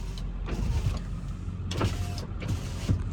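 Power windows on a 2003 Ford Excursion Limited 7.3L Powerstroke diesel, a faint motor whine sliding up and down in short runs over the idling engine, with soft thumps as the windows stop.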